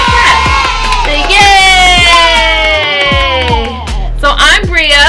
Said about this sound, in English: Everybody clap for Maya.